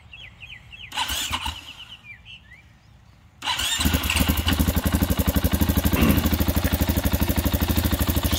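A 2022 KTM 500 EXC-F dirt bike on its stock exhaust, cold, cranks briefly, pauses, then fires up and settles into a loud, steady thumping idle nearby, with birds chirping faintly before it catches.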